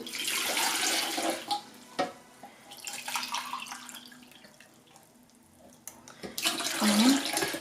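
Two glasses of lukewarm water poured into semolina and flour for a yeasted pancake batter in a home kitchen, a soft trickling splash that rises and fades quietly.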